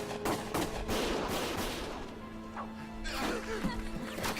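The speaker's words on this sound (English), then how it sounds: "Gunfire!" Gunfire in the Valkyria Chronicles video game, a dense run of sharp cracks and bursts over a busy battle-noise bed, with voices shouting now and then.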